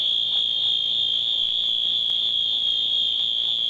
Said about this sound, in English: Suddenly strobes are flashing and loud audible horns are sounding.